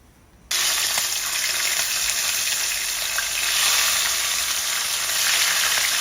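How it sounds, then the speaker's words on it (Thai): Loud, steady sizzling of fish dropped into hot oil, starting abruptly and crackling continuously with no voices. "อ่ะเดี๋ยวไปทอดกันเลยค่ะ"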